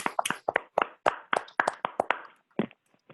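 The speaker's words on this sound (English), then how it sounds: "Let's give them a round of applause." A small group claps for a club member at an online Toastmasters-style meeting: a short, sparse run of separate hand claps, close and distinct, tapering off near the end.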